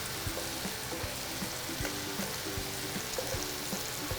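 Chicken pieces fry in butter in a pan for a copycat Outback Alice Springs chicken, giving a close, steady sizzle with scattered small pops and crackles throughout, no voices.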